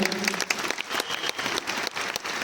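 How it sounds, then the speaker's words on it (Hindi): Loud, dense applause from an audience at a business motivational seminar, steady clapping with sharp individual claps standing out throughout. "इनके लिए एक बार जोरदार ताली हो जाए।"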